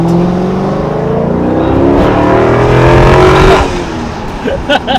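A car engine revs hard while driving, rising in pitch and loudness over a few seconds before easing off, heard close and loud with a brief voice near the end.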